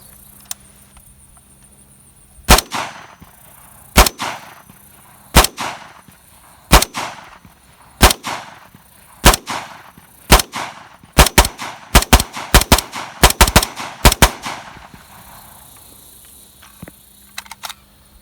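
A rifle firing Atlantic Wall blanks through a blank firing adapter lets off a string of loud, sharp reports, first spaced single shots and then faster bursts, each shot ringing out with a short echo and no talk.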